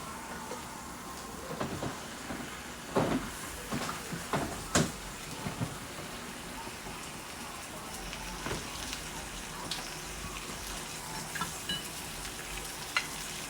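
Eggs frying in a pan for breakfast, a soft steady sizzle with scattered stirring scrapes and a few sharper knocks, fairly quiet and close, without talk.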